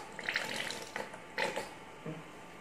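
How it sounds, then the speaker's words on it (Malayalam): Coconut oil poured into a pan over warmed onions, giving a few short liquid splashes and gurgles close by, fairly quiet against a faint background hum. "നമുക്ക് കുറച്ച് വെളിച്ചെണ്ണ ഒഴിച്ചു കൊടുക്കാം"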